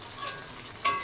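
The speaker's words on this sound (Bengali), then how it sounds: "মটন রান্না চলছে, আলুটা সবেই দিলাম, মটন কষানো হয়ে গেছে" Mutton and freshly added potatoes fry in a pan while being stirred, a steady low sizzle with scraping that ends in a sharp, louder clatter near the finish.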